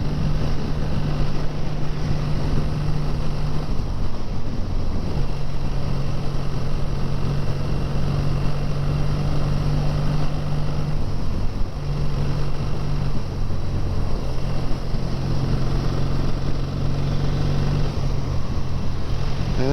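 A BSA 650 A10 motorcycle rides on country roads, its engine humming steadily up close under heavy wind rush for the whole stretch, with no talk.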